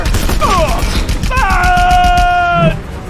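Anti-aircraft flak fire from the Panauan military in Just Cause 2, a loud, dense barrage of booming bursts lasting throughout, with a rising tonal whine over it.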